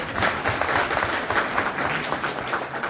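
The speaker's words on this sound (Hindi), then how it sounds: "हमारे तो सभी केयर टेकर के लिए एक बार जबरदस्त तालियां बजा दें हम लोग।" A crowd in a collectorate auditorium claps steadily and loudly for about three seconds at an International Women's Day event, dense overlapping hand claps filling the room with no pauses.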